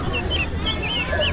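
A hen clucks in a few short, repeated calls over a steady low background hum, moderately loud and close.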